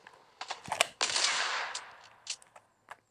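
Gunfire in a video game as AI characters shoot at a shark: a few sharp shots, then a dense rapid burst lasting about a second, followed by scattered single shots.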